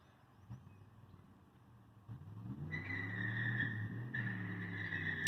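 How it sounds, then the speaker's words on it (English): Car on a nearby road, a steady engine rumble that swells louder partway through and holds, with a faint high tone over it, moderately distant under otherwise quiet outdoor ambience. "There's a car out there making quite a bit of noise."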